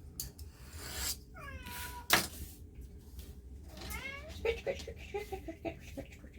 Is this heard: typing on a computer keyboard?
no